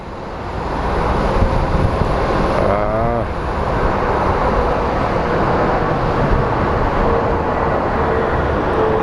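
A Spirit airliner departs Phoenix Sky Harbor bound for Las Vegas, its engines a steady, broad roar that holds loud and constant throughout, with a brief whistling tone midway and no talking.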